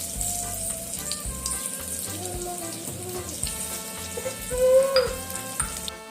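Bhakarwadi pieces frying in hot oil, a soft steady sizzle with occasional stirring clinks and bubbling under background music.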